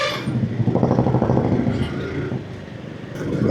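A vehicle loaded with tender coconuts passes by on a village road near Mysore. A close, loud engine rumble swells and fades within a few seconds amid general road noise.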